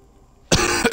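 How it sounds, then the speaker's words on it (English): A single sharp, loud cough, close to the microphone, bursting out of near silence and followed by a quick second hack, from a sick gamer streaming Diablo 3. "I apologize if I cough a lot."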